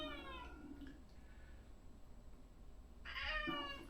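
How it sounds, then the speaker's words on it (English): A house cat meows in two clear, drawn-out calls, one near the start and a louder one near the end, with a quiet stretch between and no talking. "If you hear the cat"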